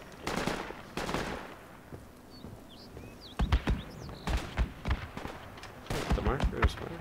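Assault rifle fire in a video game, cracking in short bursts and single shots, some near and sharp, others more distant, with brief gaps between volleys and voices faintly present.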